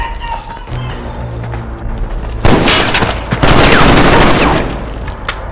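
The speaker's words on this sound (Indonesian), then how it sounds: "ketika KT fokus melihat ke arah tembakan di depannya" A burst of heavy film gunfire erupts midway, rapid overlapping shots loud and close, following a quieter stretch with low rumbling and faint voices.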